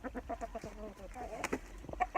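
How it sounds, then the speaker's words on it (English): A Brahma rooster clucks in a quick, steady series of low throaty notes, close by, with a higher squawk near the end. "our new Brahma rooster"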